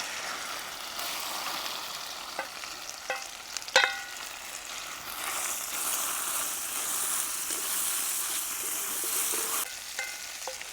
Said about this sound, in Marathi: तेल गरम झालंय, आपल्याला हे तेलामध्ये परतून घ्यायचंय.